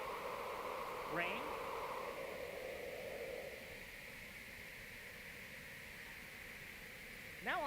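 Synthesized rain made from filtered white noise, a continuous broadband hiss that softens and drops slightly in level about halfway through.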